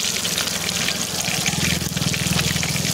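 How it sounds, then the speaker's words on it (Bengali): Fish frying in hot oil while rice boils in a pressure cooker for a chicken masala curry meal, giving a steady, dense close-up sizzle with bubbling crackle that runs unbroken throughout. "মাছ ভাজতে বসিয়ে দিয়েছি।"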